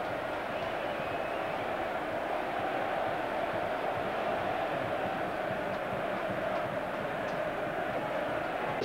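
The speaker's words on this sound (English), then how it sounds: "you can hear what the crowd think" Football stadium crowd in a Premier League match reacting to a near miss, a dense, sustained roar of many voices at a constant level, broad and distant.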